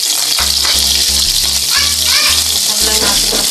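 Onions sautéing in a pan after garlic, a loud, steady sizzle running throughout, with utensil rattles and a voice speaking over it.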